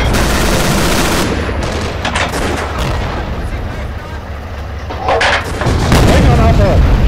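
A tank cannon fires high-explosive shells in the World War II combat game Steel Fury, Kharkov 1942, with sharp loud blasts over a constant heavy engine rumble, and a commander's voice calling out in between.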